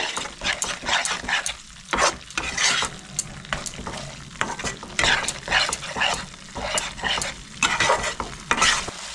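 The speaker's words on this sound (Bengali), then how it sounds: "মশলাটা আমি ভালো মতো কষাই নেব।" Masala for a Bengali shankar fish curry is stir-fried in a pan, a spatula scraping and stirring in repeated strokes over a continuous sizzle, close and fairly loud, with no talk.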